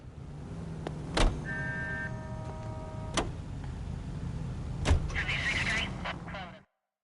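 A car driven through the 1940s streets of L.A. Noire, its engine a steady low rumble with a few sharp clicks and bumps, faint tonal game sounds layered in, fading out abruptly near the end.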